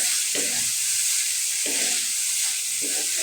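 Potatoes being sautéed in a pan for a Bengali duck egg curry: a steady loud sizzle with a few soft scraping stirs at intervals, no voices.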